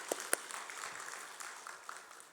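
A church congregation at a Wednesday prayer service applauds after a prayer, a faint, diffuse wash of many hands clapping at a distance with a couple of sharper claps at the start.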